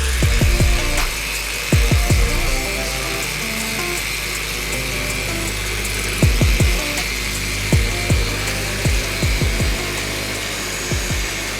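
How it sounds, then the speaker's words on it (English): A power tool polishes a repaired carbon fiber part with epoxy resin, running as a continuous loud whine, broken by several sharp, brief bursts where the pad catches or changes pitch, with no voices. "So last step is polishing and the finished product."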